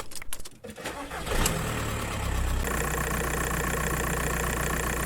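A Skoda Fabia 1.9 PD diesel engine, with a freshly refitted radiator, turns over and settles into a steady idle; a few seconds of clatter and handling noise come first, then a loud, continuous, close-up engine drone.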